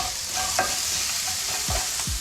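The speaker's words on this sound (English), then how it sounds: "we'll give this a stir" A spoon stirs a vegetable bean stew in a pot, scraping and knocking softly against the pot over a steady low simmer, close and quiet with no talking.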